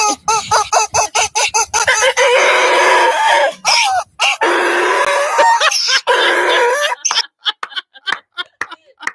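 A chicken clucks and squawks in loud, choppy bursts, played back through a speaker, with a longer run of busy calling in the middle and sharp breaks between cries.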